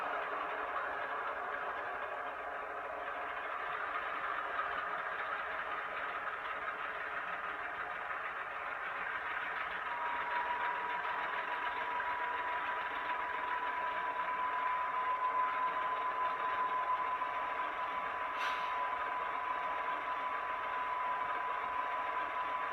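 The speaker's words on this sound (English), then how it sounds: "you're going to hear the prime mover notch up as the engineer grabs a little bit more throttle" A GE Tier 4 diesel locomotive prime mover drones on without letup, a mid-pitched mechanical hum with a faint whine joining partway through and no clear surge in power.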